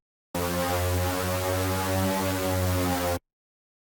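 A synth lead built from two bandpass-filtered saw waves, dry with no effects, holds one steady buzzing tone for about three seconds, loud and close, starting and stopping abruptly.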